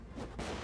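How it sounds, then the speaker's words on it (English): A big grenade goes off in a video game as one short, full burst of explosion noise. "Oh, that's a big grenade."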